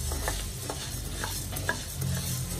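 Urad dal dry-roasting in a pan over low flame for rice murukku, a steady soft rustling scrape of stirring with a few faint clicks, close and continuous.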